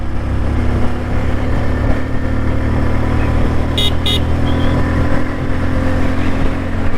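A Bajaj CT 125X motorcycle engine drones loud and steady while riding, with wind rumble throughout and two brief horn toots near the middle.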